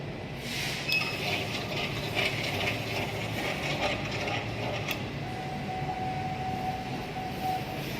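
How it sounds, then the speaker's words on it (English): An industrial 90-degree turn conveyor machine runs in automatic mode after a reset, giving a steady mechanical clatter with rattling and ratcheting clicks, and a faint whine entering partway through. "we check again the machine by running auto mode"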